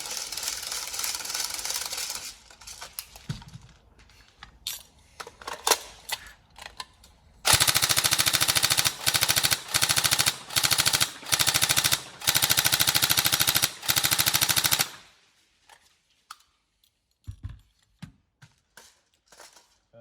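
A TM 416 Delta NGRS airsoft electric gun, upgraded, fires several loud full-auto bursts at a fairly slow rate of fire, separated by short pauses, with scattered quieter clicks and handling noises before and after.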